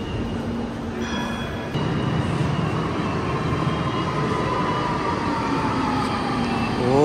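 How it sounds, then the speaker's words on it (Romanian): A Porto metro train running, a steady rumbling roar that swells louder partway through, with faint tonal whines rising and falling over it. "Deci metrou ăsta de aici zici că e un tren așa"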